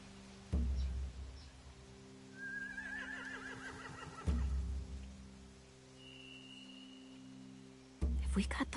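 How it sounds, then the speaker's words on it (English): Horses neighing in The Walking Dead video game: a clear whinny rises mid-clip over a low ambient hum, with heavier thuds of stamping hooves at the start, middle and end. "They have horses."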